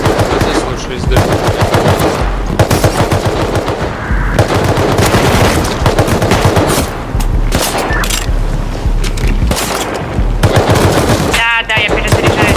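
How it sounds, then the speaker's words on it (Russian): Rapid SMG bursts from the video game Rust, loud and near, firing in repeated long volleys with brief pauses between them across the whole span. "И разве после стольких попаданий вы скажете, что СМГ это плохое оружие?"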